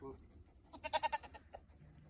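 A goat gives a short, close burst of rapid, wavering bleats at a farm during breeding season, a quick pulsing cry of about five beats amid quiet background.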